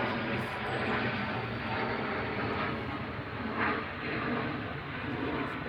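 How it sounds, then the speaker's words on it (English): A fast military jet passes overhead, a continuous broad roar that rises and dips slightly across the clip, heard alone without voices. "It sounded more like a military plane, but I don't know for sure. It's going pretty fast."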